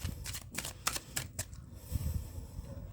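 Tarot cards are shuffled by hand in a quiet room, giving a run of crisp riffling flicks and soft paper slaps that come in short uneven bursts over a low rustling bed.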